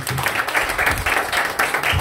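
A church congregation at a Christmas service claps together in a brief burst of dense, steady applause, close and fairly loud, with a voice faintly underneath.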